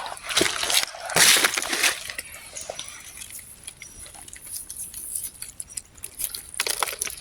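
Water poured and sloshing outdoors in a forest while mushroom foraging, with splashy bursts early on and then a continuous uneven trickle and spatter.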